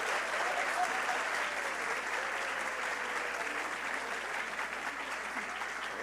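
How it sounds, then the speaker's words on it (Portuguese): Sustained audience applause for teachers, coordinators and school directors at an education-network teachers' event, a dense, steady roar of many hands clapping that holds evenly loud for the whole stretch. "Aplaudam para valer mesmo, rebenta isso"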